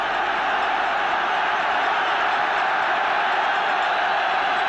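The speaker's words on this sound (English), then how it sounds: "And again the crowd behind that goal, where the Villa supporters are massed." Aston Villa supporters massed behind the goal roar during a 1975 League Cup Final against Norwich as Villa win a corner, a steady, dense wash of crowd noise from a big stadium.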